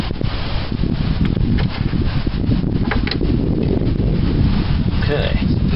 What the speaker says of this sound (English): That wind is just not cooperating.